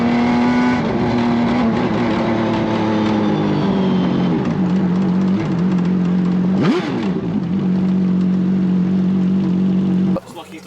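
An F1 racing car screams around a track in high, sustained engine tones with sweeping pitch shifts through gear changes, loud and continuous before cutting off abruptly near the end.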